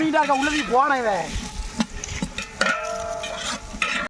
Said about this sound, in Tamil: வெங்காயம் அடி பிடிக்கணுங்கிறாங்க